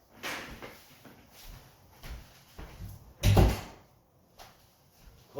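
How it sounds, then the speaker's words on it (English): A screen door is pulled shut with a few light clattering bangs and one louder slap, separated by quiet pauses, heard close by. "Close the door and that one."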